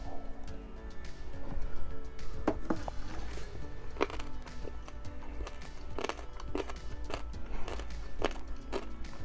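Soft, irregular crunches and clicks of chewing the firm cartilage of seasoned raw skate, close to the mic, scattered across the clip with a steady low background hum.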